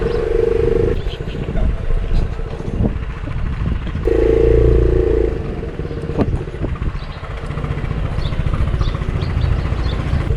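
A Royal Alloy GP300 scooter being ridden, its engine droning steadily and swelling into two louder revving stretches, with wind buffeting and occasional speech over it.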